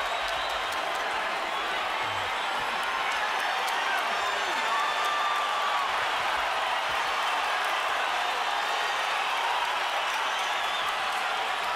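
Boxing arena crowd at a super welterweight bout roars and applauds steadily as spectators rise to their feet, a dense continuous wash of cheering and clapping with scattered whoops and faint voices underneath.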